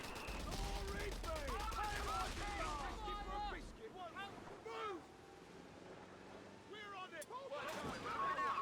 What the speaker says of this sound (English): We've got enemy fire!